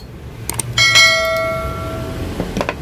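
Gear clicker on a Yamaha RX King motorcycle, heard as a few light metallic clicks and a bright ringing ping that fades over about a second, fairly quiet over a low background rumble.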